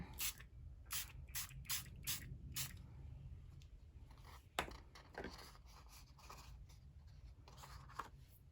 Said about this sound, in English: So I'm going to keep spraying it.